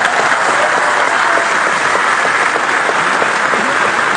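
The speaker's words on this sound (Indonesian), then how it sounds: "saya ingin minta tepuk tangan yang paling meriah kepada 2 ketua umum kita" Loud, dense applause fills the hall for two party chairpersons at a political party gathering, a steady wash of many hands clapping without a break from start to finish.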